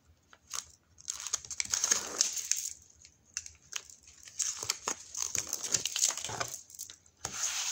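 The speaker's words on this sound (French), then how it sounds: "on vient coller le papier." Paper crinkles and rustles in bursts as it is glued, pressed and smoothed down by hand in a photo album, close and fairly quiet, with short pauses between movements.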